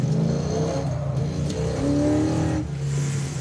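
A 1966 Chevrolet hot rod revs and accelerates nearby, its engine note climbing and falling in strong surges, with no talk over it.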